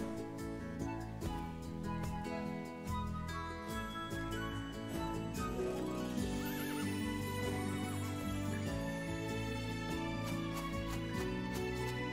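Horses whinny and neigh in the Horse Club Adventures 2 video game, repeated calls over a steady musical backdrop at a moderate level, with no talking.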